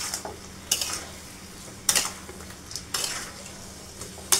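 Chicken korma with a pinch of Kashmiri red chilli is stirred in a pot, a spoon scraping and clinking against the metal in a few spaced strokes over a soft sizzle, fairly quiet and close.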